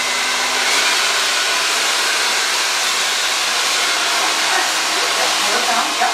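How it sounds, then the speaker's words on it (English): A blow dryer running on hair during round-brush styling, a loud, continuous, airy roar that holds steady close up with slight wavering as it moves. "And then we're going to put the blow dryer on."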